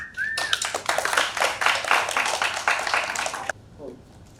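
A conference audience at a Web3 event in Goa claps steadily for about three seconds after a short tone, the applause stopping abruptly into quiet room noise.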